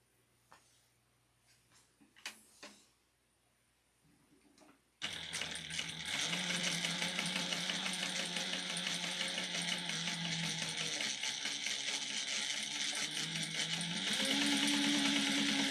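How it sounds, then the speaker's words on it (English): A sewing machine topstitches an eighth of an inch around a crossbody bag flap. After a few soft handling clicks it starts up and runs in one long, even motor drone that rises slightly in pitch near the end. "we're going to top stitch it 1/8 of an inch all the way around"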